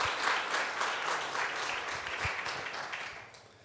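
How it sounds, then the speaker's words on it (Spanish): Church congregation applauding a visiting brother, a dense wash of clapping that holds steady and then gradually fades out, fairly soft and a little distant. "Vamos a dar un aplauso al hermano que viene desde tan lejos"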